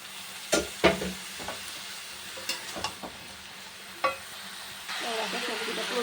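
Vegetables tipped into hot spiced oil for a vegetarian curry, with several loud clattering scrapes of a spatula stirring, then a rising hiss of frying that swells near the end.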